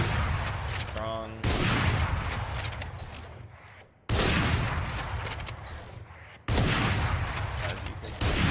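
Rapid bursts of gunfire from a heavy weapon in Valorant, loud and close, coming in three long sustained volleys with brief gaps between them.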